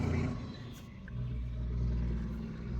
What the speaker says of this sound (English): that truck is noisy.